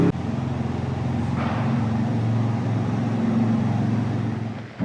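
An Audi TT RS driving, its engine a steady low drone with a rough rumble heard from close by, holding an even level throughout with no talk.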